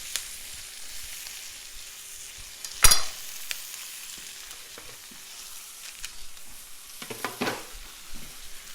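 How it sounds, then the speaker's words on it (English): Turkey or chicken cutlets sizzle in a pan with herbs added, a faint, steady hiss punctuated by a sharp clatter near the start and soft stirring or utensil noises toward the end, no talking. "Sizzling is good."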